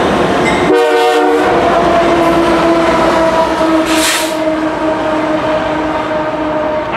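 A freight train led by a warbonnet-painted locomotive passes close by at Fullerton, its loud horn sounding with steady harmonic tones over continuous rumbling wheel and rail noise from start to finish.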